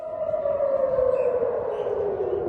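An air raid siren in Tel Aviv, set off by a missile barrage, wails steadily on its own, its single tone slowly sinking in pitch.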